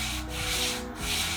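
A sandpaper strip rubs back and forth along a Mopar small-block crankshaft in long strokes. The close, dry rasping swells and fades with each pass, with no voices.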